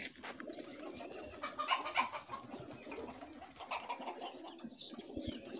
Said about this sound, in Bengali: এই যে অসংখ্য কবুতর, কবুতরের খামার।